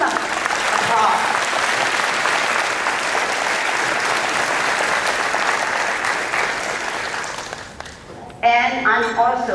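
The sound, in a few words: audience applause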